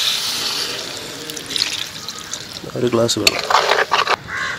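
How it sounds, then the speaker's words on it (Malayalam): A glass of water poured into crab curry in a pan, a short liquid splash and gurgle building in the last second and a half over a hissing background. "നമുക്ക് വെള്ളം ആഡ് ചെയ്ത് കൊടുക്കാം അല്ലേ? ഒരു ഗ്ലാസ് വെള്ളം."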